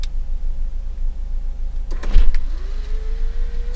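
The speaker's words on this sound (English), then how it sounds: "Do we test the sunroof? I think we do." An electric sunroof on a Renault Safrane slides open slowly, a motor whine starting about two seconds in with a clunk, then a rising mechanical hum inside the car over a steady low engine idle.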